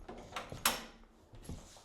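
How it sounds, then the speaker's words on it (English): Crate door for a 12-week-old puppy being opened, a few soft metallic clicks and a sharper rattling clank, faint and close with quiet gaps. "So you open the crate."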